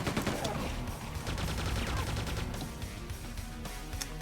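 Quake 2 gunfire sounds in quick, dense volleys through a fairly quiet, busy mix of in-game battle noise.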